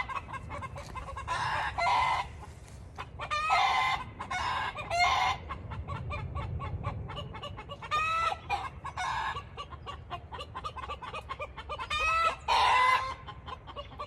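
Chickens cluck in repeated bursts close by, with a rooster crowing among them, the calls coming in irregular clusters over a low steady background with no talking.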